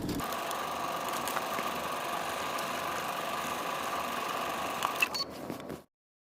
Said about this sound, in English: We're only going to stitch from the dot on the inner edge all the way down